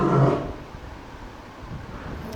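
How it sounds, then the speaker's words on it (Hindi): A lion's roar swells loud and deep at the start, then tails off into a low rumbling fade, heard alone without any voices. "ये एक शेर के दहाड़ने की आवाज़ है जो कि आपको काफ़ी भारी महसूस हो रही होगी"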